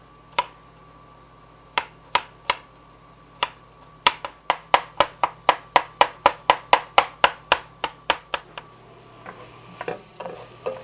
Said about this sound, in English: I hate chopping garlic